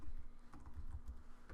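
Keys tapped on a computer keyboard while entering a Bible passage reference into Logos Bible Software 6.0, a quick run of soft, close clicks at an uneven rhythm with no voices.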